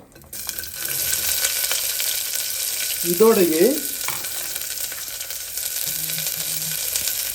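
Chopped shallots sizzle steadily in hot oil throughout, with a brief spoken word partway through and some stirring sounds over the constant frying hiss.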